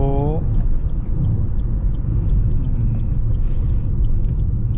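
Low, steady engine rumble fills the cabin of a Maruti Suzuki car being driven with the AC on, heard from inside, with someone talking over it.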